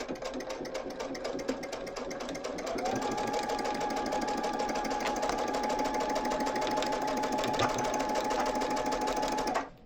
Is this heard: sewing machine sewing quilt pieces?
yes